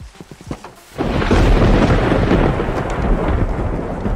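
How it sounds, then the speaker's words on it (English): Video game thunderstorm: a sharp crack of thunder bursts into a loud, sustained rolling rumble with steady rain hiss, filling the space with no voices. "as much as I think the thunder lightning in this game is cool sometimes,"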